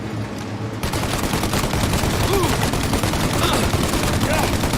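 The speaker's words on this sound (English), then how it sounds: "Shoot out your gun when there's a break in the fire!" Rapid bursts of gunfire in a Mafia: Definitive Edition shootout, a dense loud fusillade of overlapping shots and machine-gun fire running continuously throughout.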